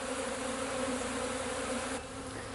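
Dense, continuous buzzing of a honey bee swarm settling in a new box after a cut-out removal, close and steady, with a slight drop in intensity near the end.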